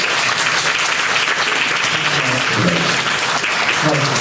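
Live audience applause at an outdoor summer stage show by a Japanese kayō pop group, steady dense clapping filling the whole stretch, with faint voices mixed underneath.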